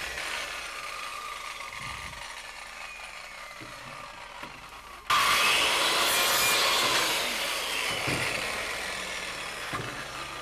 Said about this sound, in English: come up and saw it